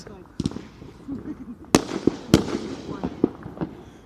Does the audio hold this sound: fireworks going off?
yes